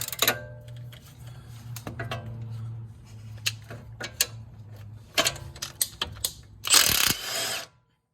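Ratchet wrench clicking on the top strut bolt of a Mercedes E350, in short bursts of rapid pawl ticks with brief pauses, close up, followed by a louder clatter near the end.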